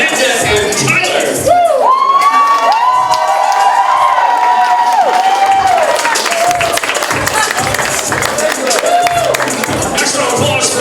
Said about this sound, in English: Next round of applause for our Tyler wedding party.